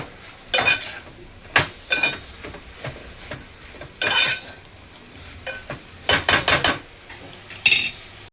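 Spoon stirs moringa leaf bhaji with salt in a pan, producing repeated bright metallic scrapes and clinks in irregular bursts over a faint sizzle, close by and without speech.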